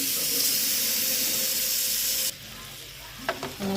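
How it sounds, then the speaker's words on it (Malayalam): Masala-coated fish frying in a pan, a loud dense sizzle that suddenly drops to a quieter crackle, followed by a few light utensil clinks. "തട്ട് കൂടായി നമുക്ക് ഓരോന്ന് പൊരിച്ചെടുക്കാം"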